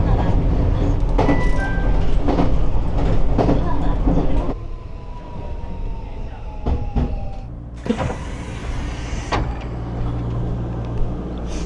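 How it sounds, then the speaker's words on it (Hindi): A Japanese high-speed train running, a loud continuous rumble and rushing roar from inside the carriage that drops to a quieter hum midway, then swells again, with brief knocks along the way. "योशिकामा अभी 80 की स्पीड में चल रही है ट्रेन।"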